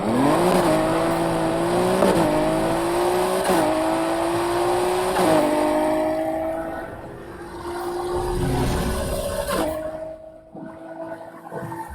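A sports car engine drones at top speed in the Need for Speed Heat racing game, a loud sustained roar with rhythmic gear-shift dips every couple of seconds, fading near the end.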